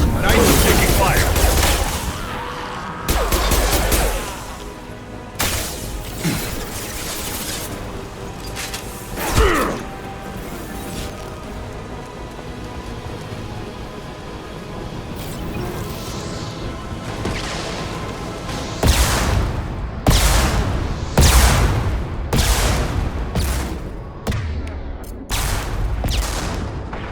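Firefight in the Mass Effect video game: dense bursts of gunfire and crashing impacts run throughout, loud and close, with a louder cluster of shots near the end.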